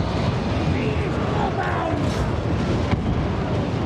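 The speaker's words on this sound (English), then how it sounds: "Freaking explosions." Explosions rumble through a busy battle in the strategy game Crooked Moon. The booms are dense and continuous, with a few sharper bursts over a thick low roar, and a voice talks over them.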